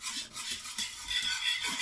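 Homemade pastry cream being stirred continuously in a pot, a soft steady scraping and swishing of the utensil against the pan, close and quiet with no talk.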